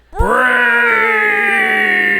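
A human voice imitates a zombie with one long, strained groan that rises sharply and holds as a loud, moaning wail for about two seconds.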